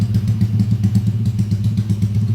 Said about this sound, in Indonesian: bisa didengar sendiri suara mesin halus ya